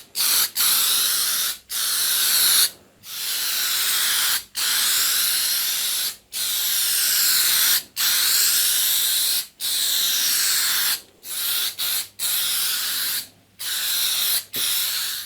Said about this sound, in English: This is an automotive clear acrylic paint.